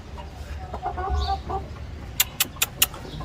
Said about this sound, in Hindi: ये हमारे पास मुर्गी है यार, ये मुर्गी ना अंडे देने शुरू किए हुए हैं